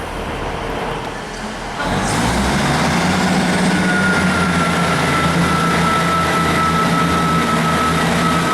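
Manchester Metrolink tram ride toward Rochdale, with a steady rolling rumble beneath a long high electric whine that rises in after a brief quieter start, loud and continuous with no talking.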